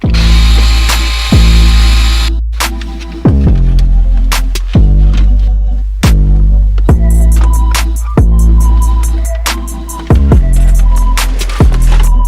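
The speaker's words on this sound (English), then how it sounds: "take off this pad here. It's held on by 4 screws, 1, 2, and 3, 4 down here in each corner. Take that off." Screws are driven out of an interior pad in a Nissan 370z with a power tool, giving loud repeated bursts of whirring about every two seconds, each ending in a sharp click.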